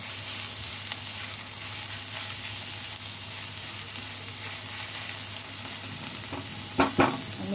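Fish frying in a pan for a Bengali doi bhola kaliya, a constant close sizzle and hiss with a couple of sharp clinks near the end, no talking.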